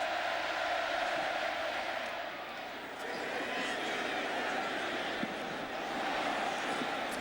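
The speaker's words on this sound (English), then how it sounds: "The crowd rocking again in Kyle Stadium." Large stadium crowd roaring at Kyle Stadium during a 2006 Oklahoma versus Texas A&M college football game, a broad, sustained wall of cheering from the stands that rises and falls slightly, with a voice speaking over it.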